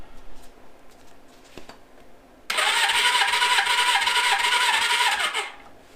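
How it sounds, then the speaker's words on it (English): A Suzuki GS550 motorcycle engine is cranked over by its starter during a compression check, a loud, steady whirring with a rhythmic pulsing beat lasting about three seconds before cutting off, preceded by quieter handling noise. "go ahead and start that compression check, and we'll see what we get."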